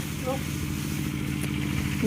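A two-wheeled walking tractor engine chugs steadily at mid pitch, close and continuous, as it hauls banana trunks to an elephant feeding area, with someone talking over it.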